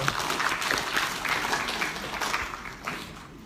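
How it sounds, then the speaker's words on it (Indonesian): Seminar audience applauding the presenter, a moderately loud burst of clapping from a crowd in a hall that fades out over a few seconds. "Kita berikan aplaus untuk Bapak presenter"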